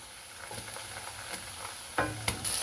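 One kilogram of chicken pieces frying in a pot for pulao, a faint continuous sizzle with occasional spoon scrapes and knocks against the pot, close and alone.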